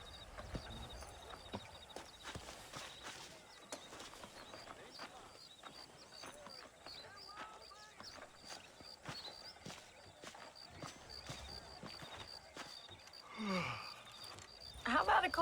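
Horse hooves clip-clop at a walking pace in the Red Dead Redemption video game, soft rhythmic steps running under conversation between characters, with a brief rustle and louder thump near the end.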